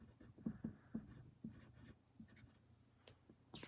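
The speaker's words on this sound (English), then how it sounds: "Let's write swings." A pen or marker writes a word during a first-grade math lesson, giving a few faint, close scratchy strokes in a quiet room with no talking.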